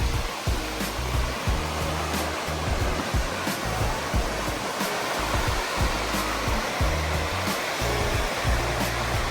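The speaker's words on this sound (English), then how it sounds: "But man, the sound of that wave, the waves will put me to sleep" Wind-driven ocean waves on a shore in Canada roar as a constant, loud broadband rush, with gusts buffeting the microphone and no speech.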